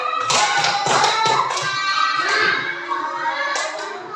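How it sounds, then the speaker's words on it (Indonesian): Children's rhythmic clapping chant, tepuk semangat, in a classroom lesson: sharp hand claps in a quick pattern over young voices chanting together, close and loud, with a few hard taps and thumps. "Ini adalah tepuk semangat."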